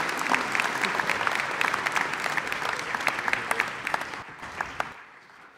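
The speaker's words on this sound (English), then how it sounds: "Oh, you guys have a lot of applause too." A graduation crowd at an international school applauds, dense steady clapping with sharp individual claps standing out, fading away toward the end.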